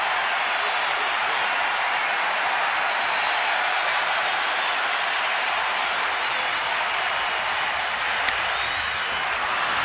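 A baseball crowd at Nats Park during a tight Braves–Nationals game roars steadily with the whole stadium on its feet, a dense, loud wash of cheering and applause that holds unbroken throughout.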